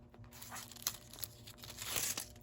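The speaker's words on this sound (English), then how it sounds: "now you just peel off the foil, and everything is going to be beautifully foiled" Holographic and silver foil crinkles softly as it is peeled off a cardstock sentiment, with faint irregular crackles and small tearing ticks, quiet and close with no talking.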